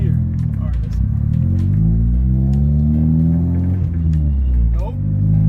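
Honda Del Sol engine and exhaust pulling hard in first gear, a loud steady drone with rising harmonics sweeping up through a gear change and climbing again, heard from inside the car.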